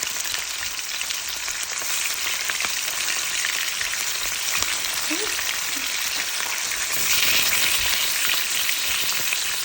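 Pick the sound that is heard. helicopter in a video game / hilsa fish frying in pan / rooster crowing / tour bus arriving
hilsa fish frying in pan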